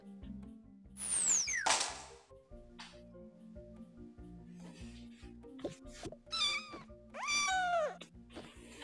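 Cat meowing in the Toca Life World game: several high, sliding meows come in separate bursts, each loud and close, with quiet gaps and faint background tones between them.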